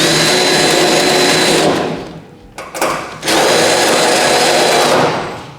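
A power drill scours rust off the plenum of a panel van, a loud continuous grinding whir that dips briefly mid-way before resuming at full strength and then tapering off.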